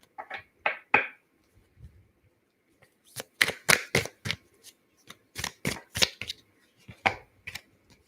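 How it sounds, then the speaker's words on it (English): Cards from a love and relationships oracle deck are shuffled and drawn, giving a close series of crisp riffling flicks and slaps in two bursts with a short pause between them. "How about we pull a card for that, Warrior Empath?"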